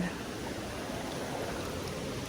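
Estrella Falls waterfall in Narra, Palawan: a steady, close rush of falling water forming a dense, even wash of noise that holds unchanged throughout, with no clear voices.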